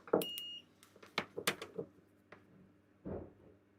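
A multimeter gives a short, high continuity beep while a shorted electronics repair is being tested, followed by scattered clicks, taps and handling noises at a low level.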